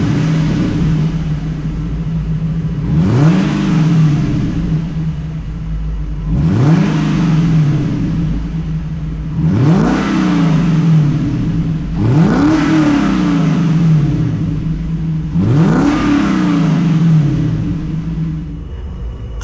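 A Lexus LS460 V8 with the muffler deleted gets five sharp throttle blips up to about 4,500 RPM, spaced roughly three seconds apart. Each loud rev rises and falls back to a steady, rumbling idle, with no talking.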